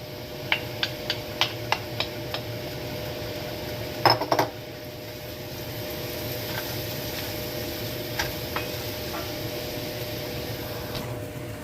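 Bacon goes back into a pan with tomato: a quick run of light metallic clinks and taps from a utensil against the pan, then a louder cluster of clatter and a few scattered ticks over a steady low background hum.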